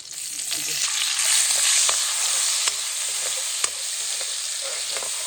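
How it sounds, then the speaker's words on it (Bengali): Onion frying in a small amount of oil, a steady bright sizzle held close and loud throughout, broken by a few light crackles and soft stirring scrapes, with no one talking. "এখন আমার এই যে পেঁয়াজটা এই তেলগুলোর মধ্যে দিব"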